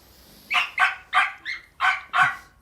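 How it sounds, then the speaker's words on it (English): A dog barks six times in a quick, fairly regular series, close and loud, with short pauses between barks. "Excuse the dog."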